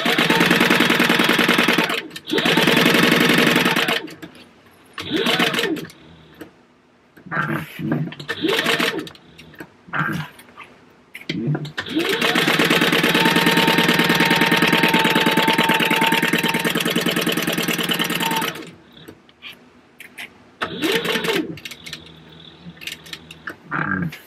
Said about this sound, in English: I am going to hold on to my tail as I start sewing